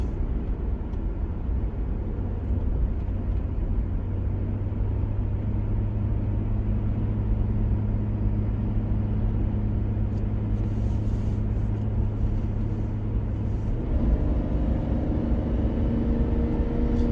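A car drives through the mountains in Colorado, heard from inside as a steady low engine and road rumble with a constant hum that shifts in pitch near the end, no voices.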